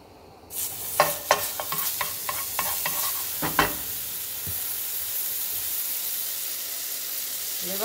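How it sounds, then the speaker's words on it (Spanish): Hot cake batter cooking in a buttered pan gives a steady, soft sizzle. Scattered clinks and scrapes from a utensil come early, then the frying hiss continues alone with no talking. "Vamos a ponerle poquita mantequilla."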